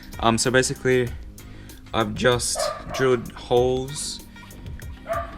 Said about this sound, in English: The dog is really annoying, as always.